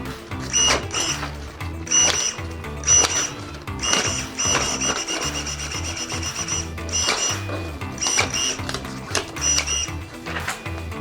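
A Stihl ASA 20 cordless battery pruner with sharpened blades snips a sheet of paper, giving a close, rhythmic series of short motor whirs and sharp mechanical clicks repeated about every second.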